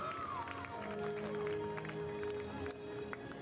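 Crowd applauds a cheerleader at a high school football game, Grace Prep versus Brook Hill: faint, distant, steady clapping from the stands with a few scattered cheers.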